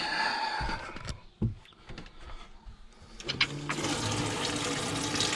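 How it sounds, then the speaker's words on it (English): Water runs from the kitchen sink tap inside an Iveco Daily camper van, a steady rushing flow that starts partway through after a few clicks and knocks and then carries on to the end. "Water running alright."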